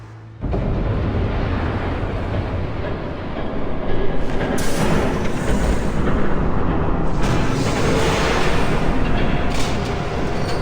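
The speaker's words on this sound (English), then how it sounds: "There's a train coming." A train rumbles past in a Batman Telltale game scene, a loud, continuous roar of rolling wagons that swells and holds steady for around ten seconds with no talk over it.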